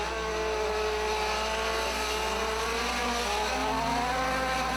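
Front-wheel-drive race cars circle Hattiesburg Speedway in a single-file pack, a continuous loud engine wail with overlapping pitches shifting as they run through a turn, steady and without speech.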